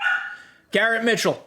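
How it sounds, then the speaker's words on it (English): A pet dog barks in the background of a home recording, a few sharp harmonic yelps close by, while someone talks about baseball cards over it. "I'm sorry if you hear my dog barking"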